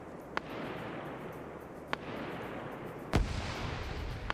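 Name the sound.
grenade explosion in WW2 video game match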